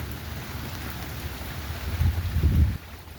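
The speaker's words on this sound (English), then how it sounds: "Here it comes, guys. Raining again." Steady rain pours onto a flooded street during a storm, a dense continuous hiss that swells louder near the end before easing, with no voices.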